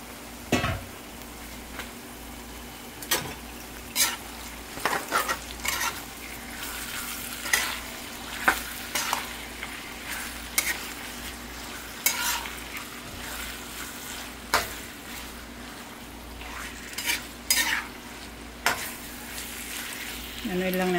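Marinated chicken breast sizzles steadily in a hot pan, and a utensil stirs and scrapes it in repeated close clacks over the continuous frying hiss, with no talking.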